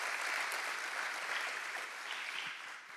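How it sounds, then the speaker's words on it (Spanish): A church congregation claps together in steady, dense applause, loud and continuous throughout before easing slightly near the end. "Podemos dar un fuerte aplauso ahora sí todos juntos"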